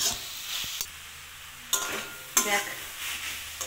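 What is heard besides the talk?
stirring and frying vegetables until soft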